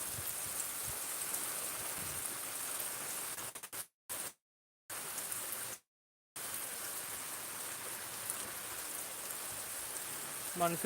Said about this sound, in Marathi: अवकाळी पाऊस अचानकच पाऊस आलेले आहेत